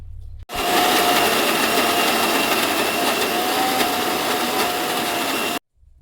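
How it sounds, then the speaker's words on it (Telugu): A mixer grinder whirs loudly and steadily for about five seconds as it blends cooled tomato chutney, starting and stopping abruptly with quiet before and after. "ఇప్పుడు పచ్చడి చల్లారిపోయింది. మిక్సీ పట్టుకుందాం."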